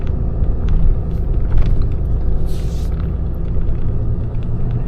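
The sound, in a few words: tow truck driving with a Chevy Silverado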